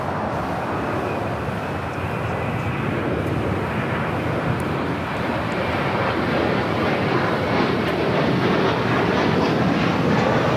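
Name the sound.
Breeze Airways Airbus A220-300 airliner at LAX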